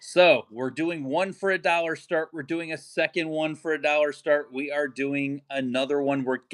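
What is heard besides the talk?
No everyday noise stands out behind the speech.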